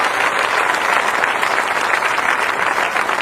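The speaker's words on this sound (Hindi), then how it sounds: "इनके लिए जरा एक बार जोरदार तालियां बजाएं" Audience at a live Hindi poetry and comedy show applauding loudly, a steady dense wash of many hands clapping together without pause, with no talking over it.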